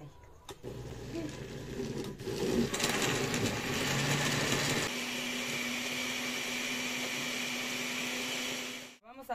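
A blender grinds ingredients for mole and tamales with a loud, steady motor whir that changes pitch partway through, then cuts off abruptly near the end.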